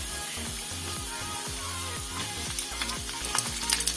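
Green chillies frying with onion, ginger and garlic for rasam give a steady, close sizzle, broken by a regular run of scraping stirs in the pan.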